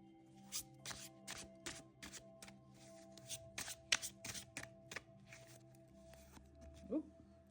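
Tarot cards being shuffled and drawn, a run of quick soft riffling slaps and taps in an irregular rhythm, close and fairly quiet, with a faint steady hum behind.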